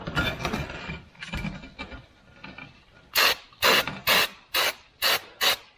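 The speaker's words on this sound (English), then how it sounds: "So what I do, I just take some brake cleaner," Brake cleaner is sprayed into the pockets of a vehicle brake part. First comes some scraping and rubbing, then six sharp, loud bursts of aerosol spray in a steady rhythm, with no voices.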